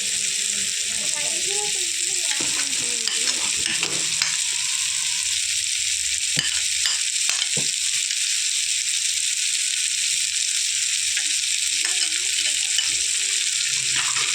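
Chopped carrot, potato and other vegetables sizzle steadily in a pan for mushroom rava kichadi, a constant bright hiss broken by a few scraping stirs, with faint voice traces in the background.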